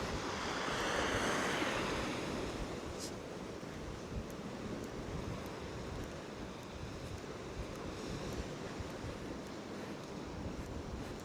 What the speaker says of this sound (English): That's quite a chilly breeze coming around here now.